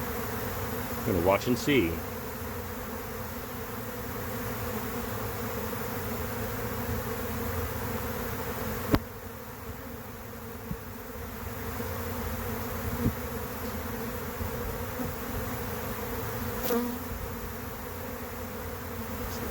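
Honey bee swarm in the air near a beehive, a dense steady buzzing drone that fills the whole clip, with someone speaking briefly near the start and a few faint knocks.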